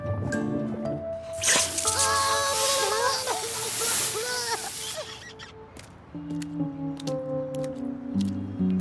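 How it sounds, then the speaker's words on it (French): Water from an opened tap running through a hose, sputtering and bubbling in wet squishy bursts with dripping and sloshing, mixed with faint voices and other background sounds in a warm outdoor setting. "Je peux ouvrir le robinet?"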